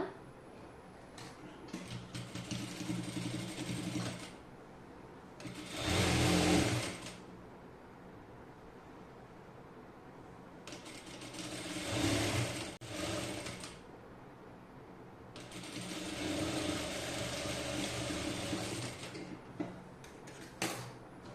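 A sewing machine stitches a skirt side seam in several bursts, with fast mechanical whirring runs separated by pauses filled with faint ticking and handling noises, close and moderately quiet.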